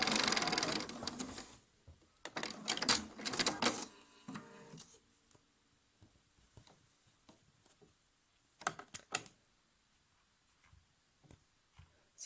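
A sewing machine stitching fabric runs in short bursts, a couple of stitches at a time, with pauses for repositioning and quiet handling clicks between runs.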